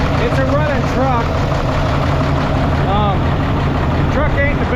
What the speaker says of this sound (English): it's a running truck.